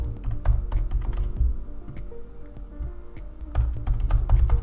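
Fingers type on a computer keyboard at close range, quick clusters of crisp key taps that slow briefly in the middle before speeding up again.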